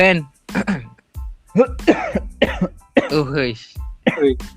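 Several harsh coughs and throat-clearing bursts come in quick succession, close and fairly loud, with short pauses between them.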